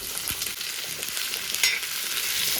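Ingredients for egg sambar fry in a pan until reddened, giving a continuous bright sizzle with occasional stirring scrapes and one louder crackle, close and without talk.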